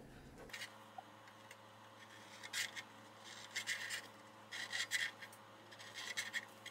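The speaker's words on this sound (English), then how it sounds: "Mark this out with a Sharpie." A Sharpie marker squeaks and rasps across aluminum sheet metal in short, intermittent strokes, close but quiet over a low steady hum.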